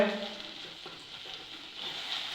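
Onions with ginger garlic paste fry in hot oil for a dried prawn biryani, giving a soft, steady sizzle that stays fairly quiet and close throughout.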